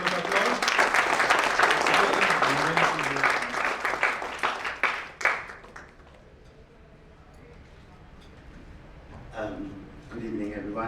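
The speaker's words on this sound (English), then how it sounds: "Sir, please welcome with a huge round of applause." A conclave audience at WeSchool gives a loud, sustained round of applause welcoming a guest speaker. The clapping fills the first half, fades into near quiet, and then a voice begins speaking close by.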